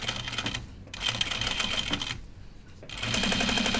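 A sewing machine runs through a thick jacket side seam in continuous bursts with brief pauses, close and moderately loud.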